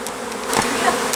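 A honey bee swarm buzzes densely and continuously up close, a dense droning hum of many insects at once.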